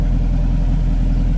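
Car engine running through new headers and a freshly welded exhaust, a steady loud low rumble at idle throughout, close by with no voices.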